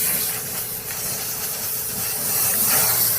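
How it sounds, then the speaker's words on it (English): A black spray paint can hisses steadily and loudly, one continuous spray lasting a few seconds, swelling slightly toward the end. "black spray paint."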